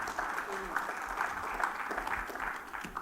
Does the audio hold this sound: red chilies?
no